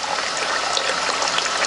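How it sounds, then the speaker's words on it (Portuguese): Dirty coolant water drains from the cooling system of a 2007 Ford Ka 1.0 during a flush, a steady close splashing gush that runs continuously with no voices. "isso aí que saindo uma água suja"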